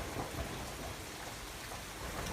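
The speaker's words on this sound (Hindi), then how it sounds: "बारिश लगातार जारी थी।" Steady rain pours during a night-time village storm, a dense, continuous hiss at even level with distant thunder rumbling underneath and no voices.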